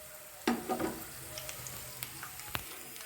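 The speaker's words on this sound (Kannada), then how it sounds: "ಕಡಲೆ ಬೀಜ ಸ್ವಲ್ಪ ಕಲರ್ ಚೇಂಜ್ ಆಗೋವರೆಗೂ ಇದನ್ನು ಚೆನ್ನಾಗಿ ರೋಸ್ಟ್ ಮಾಡಿಕೊಳ್ಳಿ" Peanuts roasting in a pan over a medium flame, with a steady low sizzle, a few sharp scraping stirs and clicks of nuts against the pan, close and moderately quiet, with no voices.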